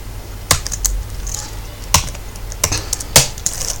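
Keys clack on a computer keyboard while code is typed, arriving as scattered sharp taps and short bursts, close and fairly loud against a quiet room.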